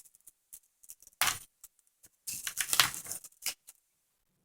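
A knife slicing open the packaging of a Cobra 19 Ultra III CB radio microphone, heard as sharp scraping and tearing bursts with short pauses between them, close and fairly quiet.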